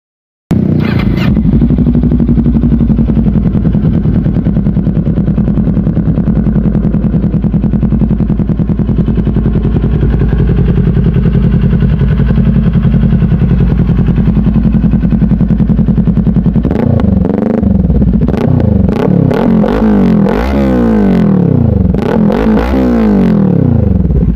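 Kawasaki Ninja 400 motorcycle, a 2022 or 2023 model with a 48-horsepower engine, idles steadily and loudly up close, then is revved through several sharp throttle blips in the final seconds.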